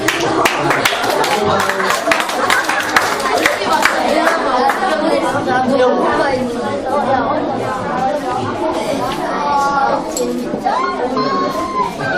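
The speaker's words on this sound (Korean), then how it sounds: "박수." A children's class in a Korean church lesson bursts into clapping, lots of small hands applauding rapidly at first, then giving way to lively children's chatter and voices filling the room.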